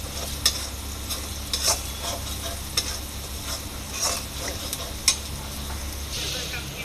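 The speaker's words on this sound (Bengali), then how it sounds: "আমার পেঁয়াজটা ভাজা হয়ে আসছে" Onions frying in a pan, a soft continuous sizzle broken by several sharp scraping stirs of a spatula, fairly quiet and close with no talking.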